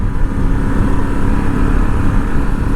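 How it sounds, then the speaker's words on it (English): A 2021 Harley-Davidson Pan America motorcycle engine roars loudly and steadily under way, a dense close rumble with heavy wind buffeting, and no voices. "Hear that engine roar."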